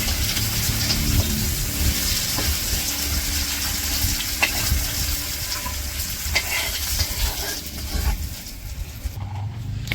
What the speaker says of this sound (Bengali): এইদিকে আবার এই যে মাছ ভাজা হয়ে গেছে